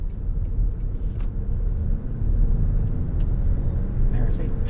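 A 2025 Toyota Crown Platinum with the Hybrid Max powertrain drives along, a steady low cabin rumble of engine and road noise with a faint rise midway and a few light clicks, under a voice talking.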